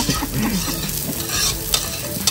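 Black pepper fries in a pot as the base for beef soup, giving a loud, close, continuous sizzle with stirring scrapes throughout and no talking.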